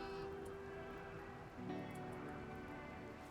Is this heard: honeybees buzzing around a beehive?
no